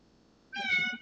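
A pet cat meowing indoors: one clear, fairly close meow with a rising, tonal quality that follows a brief quiet moment and fades gently.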